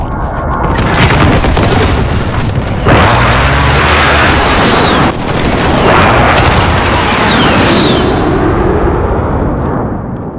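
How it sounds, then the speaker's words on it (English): Precision airstrike explosions hit in a Call of Duty: Modern Warfare match, a loud barrage of booming blasts and crackling bursts piling onto one another for several seconds, close and overpowering. "Enemy precision airstrike"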